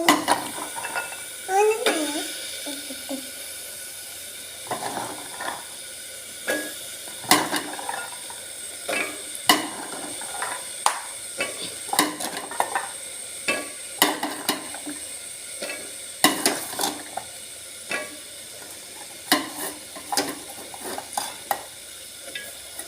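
Chickpea curry being stirred in a pan, a spoon scraping and clattering against the metal in repeated strokes over a soft sizzle, close and steady throughout.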